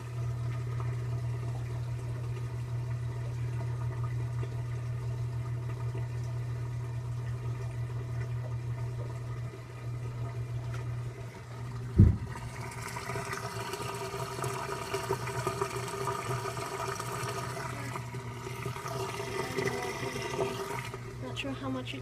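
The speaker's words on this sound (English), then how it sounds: "I'll do the start to the drain and spin cycle." An LG top-load washing machine shifts into its drain and spin cycle: a steady low motor hum runs, then a sharp thump, followed by louder rushing, gurgling water as it drains, close and continuous.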